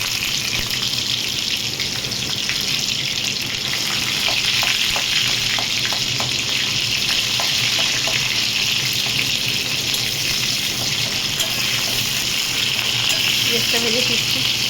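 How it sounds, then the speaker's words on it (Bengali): Onions frying in hot mustard oil with cumin give a loud, steady, dense sizzle that fills the whole stretch without pause, with faint stirring taps mixed in. "পেঁয়াজটা ভেজে ফিরছি।"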